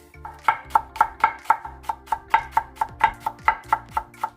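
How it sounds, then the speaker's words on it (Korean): White part of a green onion finely chopped on a cutting board, a quick even series of crisp knife strikes, close and clear, with no talking. "대파 흰 부분을 잘게 썰어줍니다."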